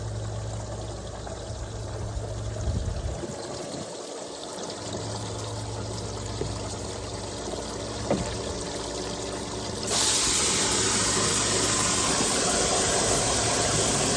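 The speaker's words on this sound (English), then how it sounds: "Let's finish filling up the water down." Water pouring steadily into a newly built bait tank, a continuous splashing rush with a low engine-like hum beneath, the flow brightening and growing louder partway through.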